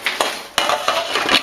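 Metal lid set onto a pot of simmering cabbage roll broth: several sharp clinks and clatters of metal on metal, close and fairly loud over a faint bubbling hiss.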